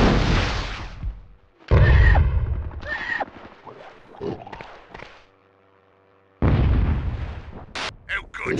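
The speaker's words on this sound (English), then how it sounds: "Torpedo away!" A torpedo launch and explosions in the PS1 game Hogs of War, with a hard launch burst followed by heavy booming blasts separated by brief gaps, loud and close, with some game sounds between them.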